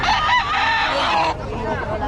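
Chickens clucking and squawking loudly nearby, a busy, continuous run of calls lasting a couple of seconds with faint background noise.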